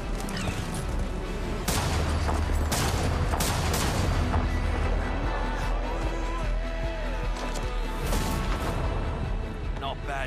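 Sustained video-game gunfire from Apex Legends, with dense bursts of shots and heavy booms filling the whole stretch, loud and close, mixed with game effects and voices.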